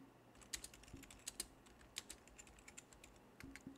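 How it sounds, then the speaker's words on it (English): Random typing on a computer keyboard, a steady run of quick, close clicks with a few louder key strikes in irregular rhythm, heard alone without talk. "You can just hear me typing randomly."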